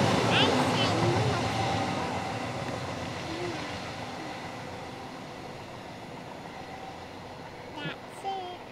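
Two diesel locomotives, 68028 and 68019, pass through Belper station with a loud, steady rumble that gradually fades as the train moves away, while people talk faintly nearby.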